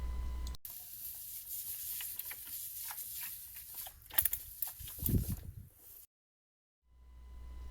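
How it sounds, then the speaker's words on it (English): A STIHL SG 11 handheld pump sprayer gives a steady hissing spray with faint ticking and pattering on plant containers, fairly close, lasting several seconds before cutting out, then a quieter hiss returns. "I'm going to spray them down as well."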